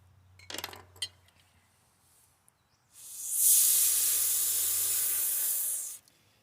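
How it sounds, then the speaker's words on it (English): A few light clinks, then a long continuous hissing spray of cleaner on a dirty Polaris 450R ATV lasting about three seconds, loud and close, ending abruptly. "let me spray this all out, get this all cleaned up."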